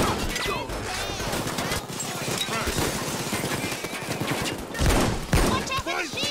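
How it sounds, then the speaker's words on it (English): A minigun roars in PAYDAY 2, a continuous rattling stream of gunfire mixed with other weapons and impacts, loud and close, with voices talking through the chaos. "Why do you have a fucking minigun?"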